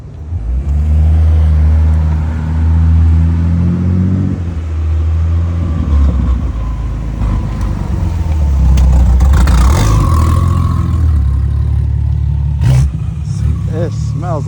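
A 1500 bhp BMW M3 Competition G80 idling up close, a steady deep engine rumble that runs the whole time with slight swells and a brief louder blip near the end, while people talk over it.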